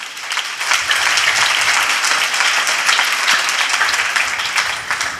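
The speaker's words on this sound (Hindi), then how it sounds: "मैं आप सबसे दरख्वास्त करूँगा मेरे आसमानी बाप के लिए ज़ोरदार तालियाँ बजाएंगे" A church congregation at a sermon breaks into loud, sustained applause, many hands clapping densely and evenly throughout, with no talking over it.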